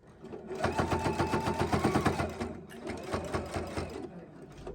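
A Husqvarna Viking sewing machine fitted with a quilt binder runs in a close, loud, rapid mechanical stitching rhythm, slowing briefly midway before running again and then stopping.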